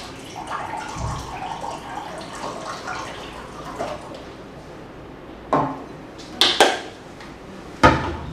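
Kangen water pours and splashes into a container, a soft, steady trickle with a few sharper clunks and taps near the end, fairly faint and without talk.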